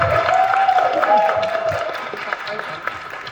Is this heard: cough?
no